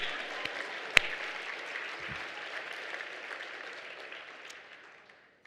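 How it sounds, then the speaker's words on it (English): Applause from a gala dinner audience, a broad steady wash of many hands clapping that holds for several seconds and slowly fades out, with a sharp isolated clap near the start. "Yeah, let's clap."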